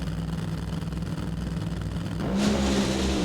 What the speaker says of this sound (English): The funny car final at the Route 66 Nationals.